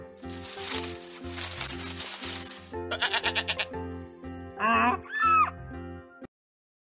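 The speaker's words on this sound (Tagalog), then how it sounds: "Tingnan mo ang mga halaman doon. May makikita kang tupa." Sheep bleat among plants in a biblical scene: several quavering calls stand out loud and clear over a steady musical backdrop, finishing in a couple of drawn-out cries before a sudden cutoff.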